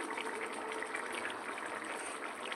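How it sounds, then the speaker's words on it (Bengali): Aloo dum curry bubbling in a pot on a gas stove, a steady soft simmering hiss and fizz with small pops throughout, fairly faint and close, no speech. "দেখো, ফুটে গেছে।"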